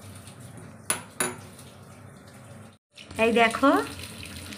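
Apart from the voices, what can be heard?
chicken being washed under running water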